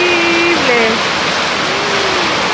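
Heavy rain in Santiago, Puente Alto: a loud, dense, steady hiss of downpour with a faint tonal whine running through it.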